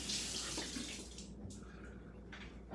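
Water runs steadily from a kitchen tap while hot Scotch bonnet peppers are washed beneath it, a close, continuous splashing rush that shifts slightly as the peppers move through the stream.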